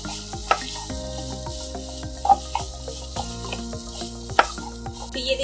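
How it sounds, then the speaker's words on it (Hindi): Crumbled paneer stirred and fried in ghee in a pan for dhaba-style paneer bhurji, with a soft steady sizzle broken by repeated scraping and clinking of a spoon against the pan. "अब चलिए जो हमने पनीर क्रम्बल करके रखा था उसको हम इसमें ऐड कर देते हैं। इसको अच्छे से मिक्स कर देते हैं"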